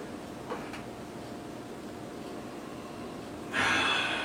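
A single sharp nose sniff of a dark beer in a glass, close and fairly loud after a few seconds of quiet room hush.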